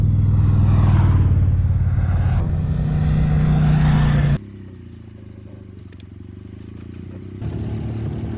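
About a dozen motorcycles arrive on a windy road in the Po Delta, their engines rumbling loud and close at first, then dropping to a quieter, steadier drone before swelling again.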